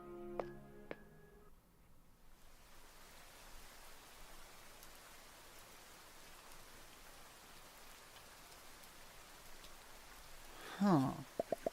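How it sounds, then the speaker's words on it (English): Steady rain falls in a horror video game, a continuous soft hiss of drops that runs through most of the stretch, with a few brief tones near the start and some sharp clicks near the end. "The quiet sound of rain strikes the eardrum with strangely loud noises."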